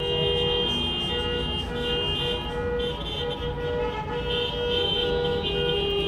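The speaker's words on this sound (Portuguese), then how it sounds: "Pausa no vídeo pro buzinaço que tá tendo aqui." Car horns from a street motorcade honking continuously and loudly outside, several overlapping tones blaring together with traffic rumble beneath, with no talk.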